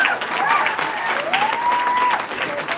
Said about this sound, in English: a big round of applause for Dr. Judy Dlamini.